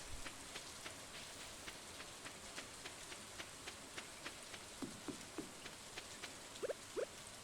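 Steady rain patters across a farm in Stardew Valley, a constant soft hiss with light drips and a few small ticks near the end, no talking.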